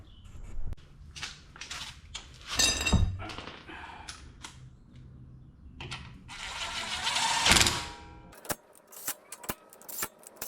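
Metal lug nuts on a Cybertruck wheel being threaded on and snugged during a tire rotation: close, loud clinking, ratcheting and jangling bursts with a few sharp knocks, no talking.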